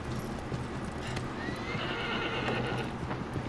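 Horse in the video game Shadow of the Colossus Remastered galloping with steady clip-clop hoofbeats and a rising whinny midway, close and fairly loud, with no talking.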